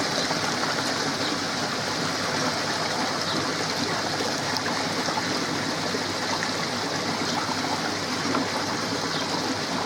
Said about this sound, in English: I'm only going to fill it up just to the top of the entrance pipe